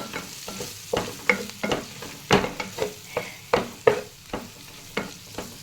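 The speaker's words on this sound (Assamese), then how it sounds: "এতিয়া ভালকৈ মই এয়া লৰাই দিছোঁ।" Curry with mixed masala and Kashmiri chili powder is stirred in a pan: a quick series of sharp scraping strokes and light knocks against the metal, close and clear, with a faint sizzle beneath.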